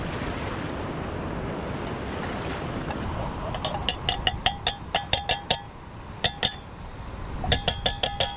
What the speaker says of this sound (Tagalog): Linisan lang natin sa dagat itong pinagkainan natin kagabi.